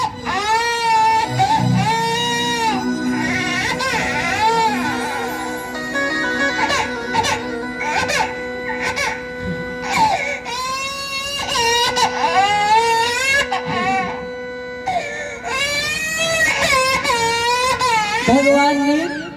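A voice imitates a baby crying during a devotional storytelling, with drawn-out wailing sobs, loud and close, rising and falling over about twenty seconds with a sustained musical drone beneath.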